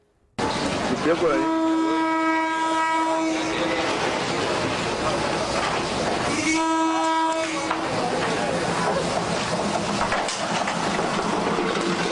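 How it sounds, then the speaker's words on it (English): An Amtrak train rumbles loudly through an outdoor farmers market, its horn sounding in long steady blasts near the start and again midway while the heavy rolling roar continues throughout. "The Amtrak Farmers Market. I love it. Train!"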